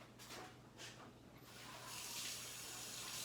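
Faucet water rinses a bunch of fresh thyme, starting as a lighter, broken splash and then swelling into a fuller, steadier stream at a sink, with no one speaking.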